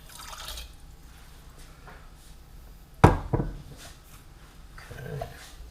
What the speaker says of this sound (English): I am going to add another half a cup of water